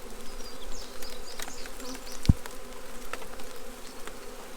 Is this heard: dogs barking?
no